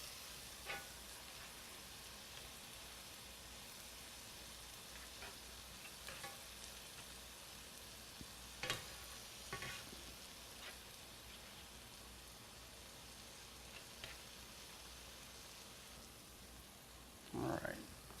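Minced garlic sautéing with other ingredients in a pan, a faint, steady background sizzle with sparse pops and a couple of brief clatters, quiet throughout.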